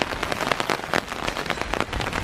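Rain falling on a walkway in Bergen, Norway, a steady close patter of drops hitting the ground, continuous and fairly loud with scattered sharper splashes and no talking.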